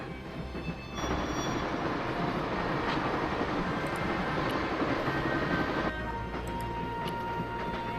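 Steady rumbling interior ambience of a moving train carriage in the Broken Sword video game, continuous low-frequency drone that swells louder for several seconds and then settles back, with no voices.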